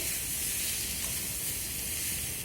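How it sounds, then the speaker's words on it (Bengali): Papaya fries in a pan with turmeric, giving a loud, steady hiss and sizzle that fills the whole stretch without a break. "পেঁপেটাকে দেওয়ার পরেও আমি বেশ কিছুক্ষণ এইভাবে নেড়ে চেড়ে ভেজে নেব"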